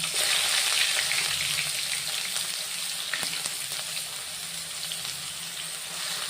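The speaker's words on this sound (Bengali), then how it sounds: "এভাবে কড়াতে দিয়ে তারপর রান্না করব। এখন দিয়ে দিলাম পেঁয়াজ বাটা" Onion paste frying in hot oil in a kadai for a chicken dish gives a steady, moderately quiet sizzle and crackle throughout, with no talking.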